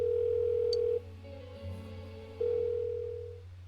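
A telephone in the Persona 4 Golden video game rings unanswered as a steady electronic tone. It is clear and close, cuts off once, then sounds again before fading under a low hum.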